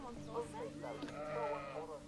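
Dall sheep bleat in wavering, nasal cries, overlapping with a person talking nearby.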